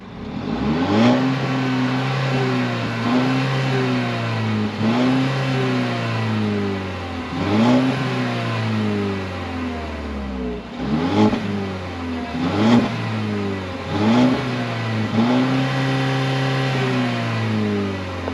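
Engine of a 2013 Mercedes CLA heard from the rear exhaust, revved repeatedly in steady rising-and-falling bursts, loud and close with no talking.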